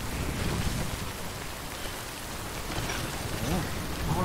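Steady rain in Death Stranding pours over the landscape, a dense, continuous hiss of drops on surfaces with faint low rumbles beneath and a few soft vocal sounds mixed in.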